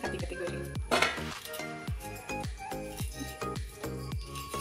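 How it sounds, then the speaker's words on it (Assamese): Knife cutting peeled amaranth stalks into pieces in a home kitchen, a run of about ten sharp, evenly spaced chops against a board, each with a brief ringing tail, and no talk. "মই গুচাই লৈ এনেকৈ টুকুৰাকৈ কাটি কাটি গৈ থাকিম।"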